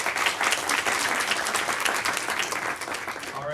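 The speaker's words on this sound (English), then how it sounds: "round of applause for Michael" Steady applause from a meetup audience for a startup presenter, dense and sustained clapping close by throughout, with no speech over it.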